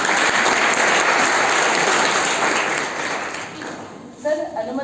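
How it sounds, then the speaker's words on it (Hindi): Loud applause from an audience at a lecture and workshop on women's safety and water conservation fills the room, then fades out, and a voice begins speaking at the end. "तो सर का तालियों के साथ स्वागत करें।"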